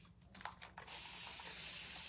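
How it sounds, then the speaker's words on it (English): A spray bottle mists the back of a bow transfer: a short rustle and a few faint clicks, then a steady, close hiss of spray that keeps going to the end. "Spray the back."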